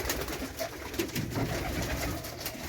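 Mardin pigeons cooing softly and repeatedly up close in a coop, overlapping throaty coos in an enclosed space with a faint background hum.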